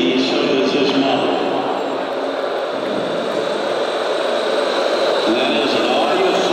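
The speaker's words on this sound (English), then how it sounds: "of the radial engines sound from the big B-17" Sound system in a flying model B-17 bomber plays a recording of radial engines, a continuous, steady loud droning roar that holds throughout, with a faint crowd in the background.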